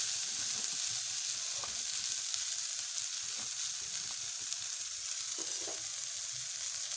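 Garlic and dill leaves fry in a hot pan for a dill and toor dal dish, giving a steady close sizzle with occasional soft stirring scrapes and clicks throughout.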